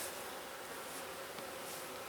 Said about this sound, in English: There's a few bees up there, but not many